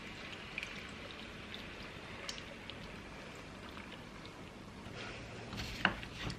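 Heavy whipping cream and water are poured onto frozen corn, making a quiet, continuous stream of splashing and trickling that lasts several seconds, with a slightly stronger splash near the end.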